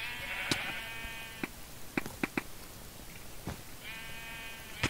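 Sheep in a Minecraft Mineplex server bleat twice, short nasal calls set among scattered clicks and taps over a constant low hiss.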